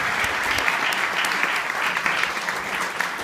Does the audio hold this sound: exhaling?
no